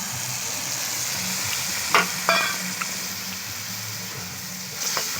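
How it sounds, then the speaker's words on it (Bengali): Onion, ginger and garlic fry with a paste of cumin, coriander, chili and turmeric powders for a mutton curry. The pan gives a continuous close sizzle, punctuated by a few clanks of a stirring spoon. "পেঁয়াজ আদা রসুন কিন্তু ভালো করে ভাজতে হবে"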